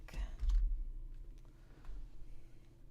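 Computer keyboard clicks come in a few quick, quiet bursts with scattered single keystrokes, close by in a quiet room.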